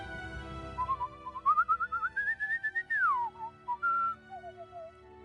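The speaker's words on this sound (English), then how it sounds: "Just whistle a happy tune." A person in a video game whistles a cheerful tune alone, a run of quick rising notes ending in a sliding fall and a few short closing phrases, clear and close.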